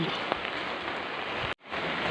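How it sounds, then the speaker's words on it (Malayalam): Steady rain falls outside a family home in Kerala on a rainy day, a dense, even hiss of drops on surfaces with a brief cut near the end. "നല്ല മഴ ദിവസം കേട്ടോ"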